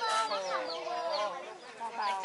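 Chickens on an organic farm in Nonthaburi, Thailand, cluck and chatter close by in a steady stream of overlapping calls with no pauses.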